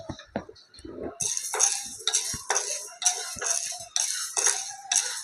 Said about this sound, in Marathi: हरभऱ्याची डाळ करपायला नको असं व्यवस्थित भाजून घ्यायचं मंद आचेवर